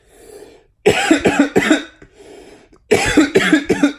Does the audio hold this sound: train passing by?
no